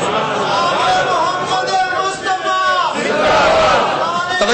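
A large crowd at a religious conference shouts slogans in unison, loud rhythmic bursts of massed voices rising and falling, close and reverberant, with a brief dip midway before the chant surges again.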